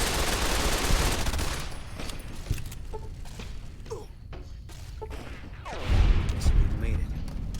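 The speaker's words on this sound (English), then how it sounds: "Start firing bullets." Bursts of gunfire in the video game Fallout New Vegas, rapid overlapping shots and thuds that are loud and dense early on, thin out mid-clip and then swell again near the end.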